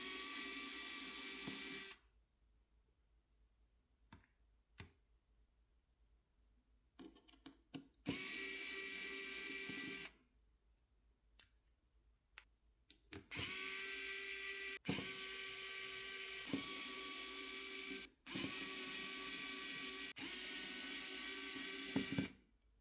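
HOTO precision electric screwdriver backing screws out of a Samsung Galaxy Z Flip6 phone, repeated short high whirring bursts of motor buzz separated by quiet pauses and faint clicks, close up.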